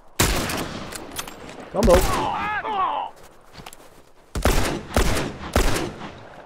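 Hunting rifle fire in a video game, several sharp loud shots in quick bursts with pauses between, someone shouting briefly over the action.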